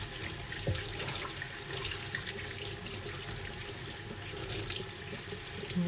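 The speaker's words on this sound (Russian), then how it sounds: "Сейчас включаю холодную воду" Cold water runs steadily from a sink tap while felted wool is rinsed under it, a constant close splashing rush with no pauses.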